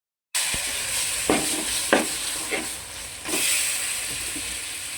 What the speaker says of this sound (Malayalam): ഇനി ഈ ഇഞ്ചിയുടെയും വെളുത്തുള്ളിയുടെയും പച്ചമുളകിൻ്റെ ഒക്കെ ഒരു പച്ച മണം മാറുന്നത് വരെ നമുക്കിതൊന്ന് വഴറ്റിക്കൊണ്ടിരിക്കാം.